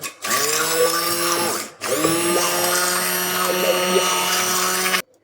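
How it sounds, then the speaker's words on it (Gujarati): Hand blender mashing cooked dal (lentils) for Gujarati khatti meethi dal, a loud close whining motor run in two bursts with a brief pause between, stopping abruptly at the end. "તો હવે આપણે અહીંયા બ્લેન્ડરની મદદથી આપણે દાળને મેશ કરી લઈશું।"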